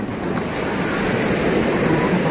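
Ocean surf at the crowded Caletilla beach, a continuous broad rush of breaking waves mixed with wind buffeting the microphone, steady and fairly loud throughout.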